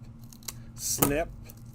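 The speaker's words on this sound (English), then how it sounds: "it doesn't gum up your scissors because you can just snip" A single quick snip of scissors cutting craft material, faint and close, preceded by a light tap and set against quiet room tone.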